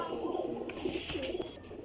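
A flying pigeon coos softly in repeated low, throaty phrases, fairly close, with a faint background hum and no talking.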